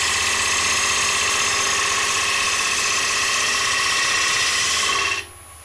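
A wood lathe spins steadily while a tool cuts an ogee-profile bowl, giving a continuous loud whirring drone with broad hissing texture that holds for about five seconds, then drops away abruptly as the cut stops.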